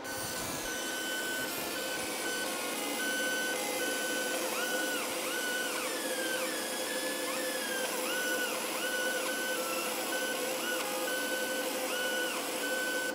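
100 watt MOPA fiber laser marking aluminum, a steady hissing fan-like hum with faint repeating high chirps and whines as the galvo head moves, continuous and fairly quiet.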